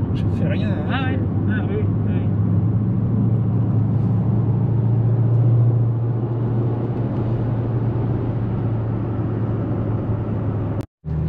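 A Chevrolet Camaro SS driving, its engine a steady deep rumble inside the cabin under people talking, with a brief dropout near the end.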